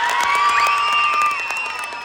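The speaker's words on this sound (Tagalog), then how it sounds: "wala po bang palakpakan dyan?" An audience at the Bekshie ng Maynila 2024 pageant's national costume segment claps and cheers, a steady dense wash of crowd noise with high shrill calls running through it, fairly loud and continuous.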